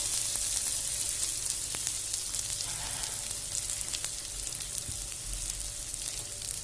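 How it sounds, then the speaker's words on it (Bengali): Onion and garlic fry in oil with turmeric and chili powder for a fish curry, a steady close hiss of sizzling that runs unbroken throughout, with a few faint clicks and no voices. "পেঁয়াজটা ভালো করে ভাজা হয়ে গেছে রসুনের সাথে"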